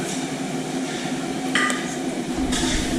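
Stirring food in a pan at a Thai cooking class, with a spoon scraping and clinking against the pan, steady and close, plus a couple of sharper metallic knocks.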